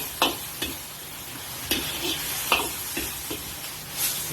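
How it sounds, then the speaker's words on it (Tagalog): Pork for pad kra pao sizzles in a hot pan while it is stir-fried, with a steady frying hiss broken by intermittent scraping and tossing clatters from a utensil, close and moderately loud. "Stir fry lang ulit tayo siya ng mga 30 seconds."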